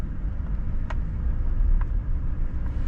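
A pickup truck creeps slowly over slick, icy farm ground, giving off a low, steady engine rumble with a few faint ticks over it.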